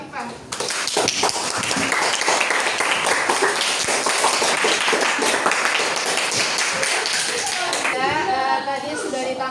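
Classroom applause for a student named Afifah, a dense, steady patter of many hands clapping close by, filling the room with talk faintly audible underneath.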